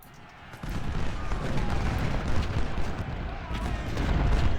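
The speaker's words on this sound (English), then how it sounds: "And these artillery pieces continue your fire on Cable." Musket and artillery fire in the Ultimate General: Civil War game at the Battle of Salem Church, a dense, continuous rumble of distant gunfire and booms that swells in after a quiet start.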